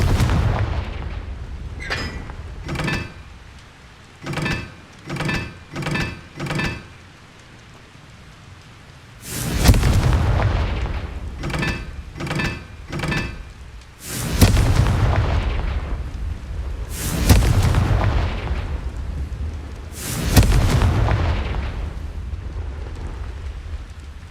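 Repeated explosive Confringo spell blasts go off in the video game Hogwarts Legacy, with loud booming impacts and crackling bursts in clusters separated by short gaps, no talking.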